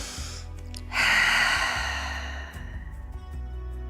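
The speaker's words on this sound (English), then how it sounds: "We're gonna take a few deep breaths." During prenatal yoga, one deep breath is drawn in and released, a close, soft airy rush over quiet background music.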